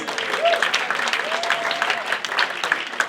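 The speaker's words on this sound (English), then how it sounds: "we should all give James another round of applause" A crowd claps loudly and steadily, sustained applause filling the room, with faint voices underneath.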